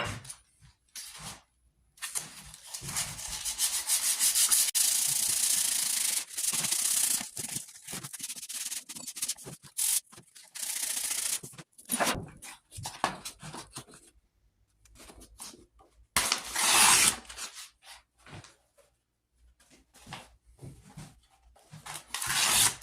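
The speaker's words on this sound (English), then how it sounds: "So I'm going to take it to from 120, 240, and 320, and then we'll save the 400 and 600 for the final sanding" Sandpaper rubs back and forth over a wooden stock for a .50 caliber St. Louis Hawken rifle, close, dry scratchy strokes coming in bursts with brief pauses between them.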